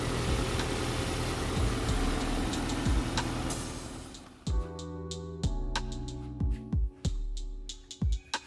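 A Nissan Hardbody D21 pickup bought at auction idles after starting right up, a fairly quiet, steady engine rumble for several seconds, then a sparser stretch broken by sharp intermittent clunks and taps.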